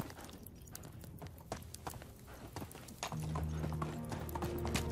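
Horse hooves clip-clop in a brisk walking rhythm while riding in the medieval video game Medieval Dynasty. The hoofbeats are moderately close, and a low droning tone joins partway through.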